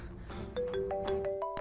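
A phone ringtone plays a bright, repeating electronic melody of short tones, moderately loud against a quiet background.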